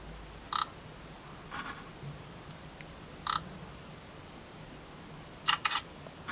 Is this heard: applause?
no